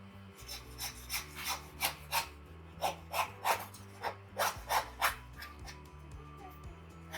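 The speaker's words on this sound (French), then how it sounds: "je fais ça avec une scie à nettoyer" A hand saw rasps back and forth through a pork carcass, meat and bone, in steady, regular strokes, close up, with a low hum underneath.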